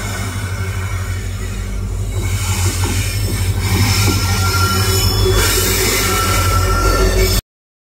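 A passenger train moves through a station with a steady, loud rumble of rolling cars and a persistent metallic squeal of wheels on the rails, continuous for the whole stretch, with no voices.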